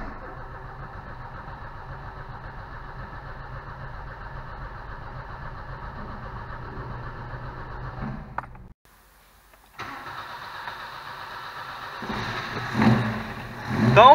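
An older Chevrolet Chevette, its engine freshly reinstalled in the bay, holds steady background noise before a short silent gap, then catches and runs, the idle rising and growing louder near the end.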